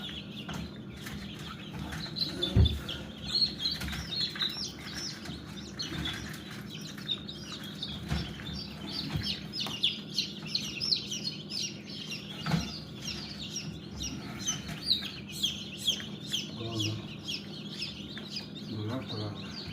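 Chicks and chickens fill a poultry-keeping space with constant high chirping and intermittent clucks, a busy close chorus with occasional louder calls and a voice speaking faintly beneath.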